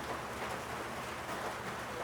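Steady rain falls in a continuous, even hiss of broadband noise, with no other sounds standing out.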